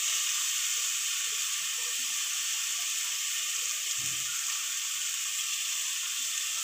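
Ginger garlic paste fries in hot oil for chicken biryani, giving a steady, close, bright sizzle that runs unbroken throughout, with a faint low stir-like bump midway.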